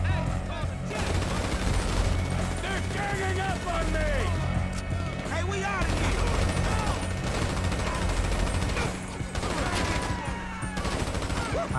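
Rapid bursts of gunfire from a GTA V shootout, dense and continuous throughout with layered automatic fire and impacts, while voices talk over the action.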